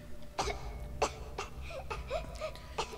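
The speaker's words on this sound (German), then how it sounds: "Diese hustende Soundeffekte, man könnte echt meinen, ich habe gerade gehustet." Several hoarse coughs from a character in the video game I Am Alive, spaced irregularly across a few seconds, close and fairly loud over a low rumbling background.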